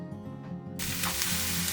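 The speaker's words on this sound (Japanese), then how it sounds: "その油で野菜を炒めます。" Onions and shimeji mushrooms hitting hot leftover hamburger-steak fat in a Fissler stainless steel frying pan, a sudden loud hiss that settles into a steady close sizzle.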